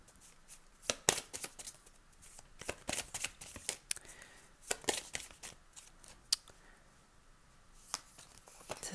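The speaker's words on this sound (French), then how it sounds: "Je vais tirer une carte du tarot de l'illumination" Tarot cards being handled and shuffled during a card-reading session, giving a quick run of crisp papery flicks and riffles, close and fairly quiet, with no talk.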